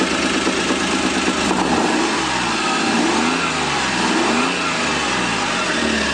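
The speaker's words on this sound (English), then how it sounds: "But just extremely smooth running engine." A Kawasaki Mule Pro FXT EPS UTV from 2015 with a smooth-running engine, revved with the throttle up close: a loud steady drone with repeated swelling climbs and dips in pitch as the revs rise and fall.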